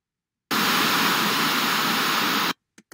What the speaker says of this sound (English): Here is pink noise.